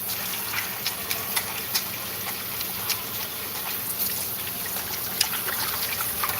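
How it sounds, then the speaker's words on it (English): Water runs steadily from a tap for hand washing, a soft continuous trickle and splash with small irregular spatters, moderately quiet and close, with no talking. "I gotta wash my hands."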